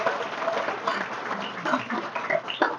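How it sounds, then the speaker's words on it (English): An audience at a law day luncheon applauding, a dense spread of clapping from many hands across the room, steady for a few seconds with faint crowd murmur. "so can we give those two a round of applause"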